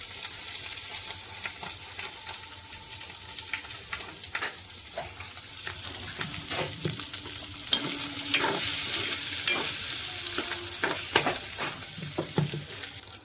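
Dry potato sabzi for a fast day fries in a pan, a soft continuous sizzle with scattered scraping and tapping stir strokes growing busier midway, close but fairly quiet.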